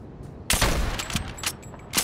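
Bursts of gunfire from a Fortnite match, loud sharp shots cracking at the start and again near the end, with ragged echoing blasts in between.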